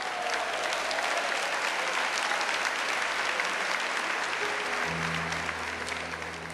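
Sustained, dense applause from a large audience at Padre Fabrício's lecture for Canção Nova, loud and steady throughout with no break.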